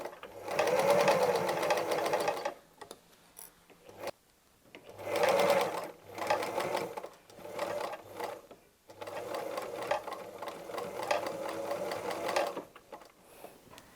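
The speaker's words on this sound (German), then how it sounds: "Wir vernähen und wir nähen." A sewing machine stitches along the edge of a fabric strip for a sparkling-wine bottle cover, running in several bursts of rapid mechanical whirring separated by short pauses, close and clear.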